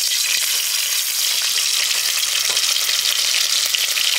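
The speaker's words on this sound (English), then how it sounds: "we're going to fry the liver" Cow's liver frying in a pot makes a loud, dense, continuous sizzle with fine crackling and occasional soft pops. No voices are heard over it.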